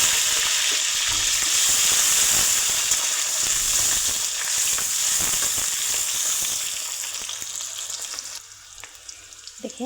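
Bay leaves and spices fry in hot mustard oil, a loud continuous crackling sizzle that runs steadily for several seconds, then eases and turns quieter and sparser near the end.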